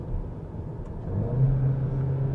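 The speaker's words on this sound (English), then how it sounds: "Takes a while for the car to find the right gear and for the turbo to spool up." 2018 VW Arteon accelerating with its turbo spooling up, a steady low engine rumble heard from inside that swells slightly with a rising droning tone.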